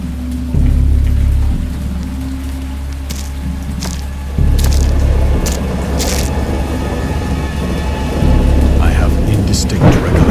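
A thunderstorm in the Dagon interactive horror game: steady heavy rain washes over everything while deep thunder rumbles swell and roll beneath, loud and unbroken throughout.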